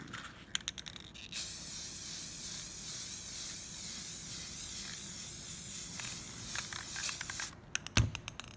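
Clear coat hisses from an aerosol can onto a homemade box guitar in one long, close, continuous spray of several seconds. A few clicks and handling knocks come just before and after it.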